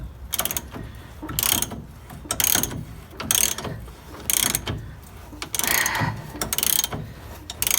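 A ratchet wrench works bolts loose on the transaxle of a 1958 pressed-bumper VW bus, with loud, close, repeated rapid clicking bursts broken by short pauses and no talking.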